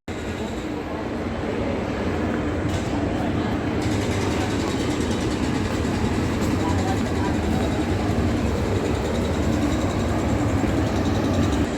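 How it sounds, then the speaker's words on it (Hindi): A WAV-5 electric locomotive from Ghaziabad hauls a festival special passenger train, producing a constant loud rumbling roar of running rail traffic with no breaks, heard from close by without clear talk. "गाज़ियाबाद का WAV-5 लोकोमोटिव था"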